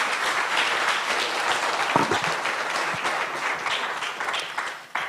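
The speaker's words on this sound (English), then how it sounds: "Another round of applause for" An audience at the Kenya EdTech Summit claps in sustained, dense applause that fills the room for several seconds and starts to thin at the end.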